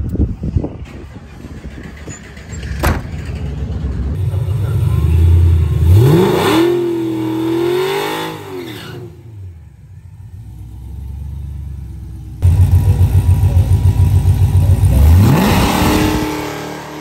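A car launching hard down a drag strip, the engine revving up through rising pitch sweeps, dropping away briefly, then roaring again loud and close for the rest of the run.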